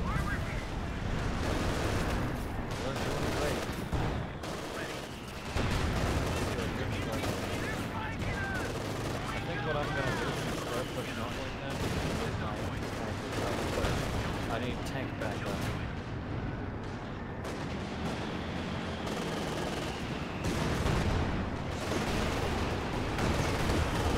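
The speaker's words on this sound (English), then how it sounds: "Good hits with the rockets." Rocket barrage in Company of Heroes 2, a dense continuous roar of overlapping blasts and gunfire with scattered impacts throughout, loud and sustained, with voices talking underneath.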